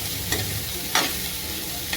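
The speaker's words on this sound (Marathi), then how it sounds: "आता वांगी परतण्यासाठी थोडी भाजून घेण्यासाठी तेल टाकतोय" Eggplant pieces sautéing in oil in a pan, a steady soft sizzle broken by three short scraping stirs of a spatula, quiet and close with no talking.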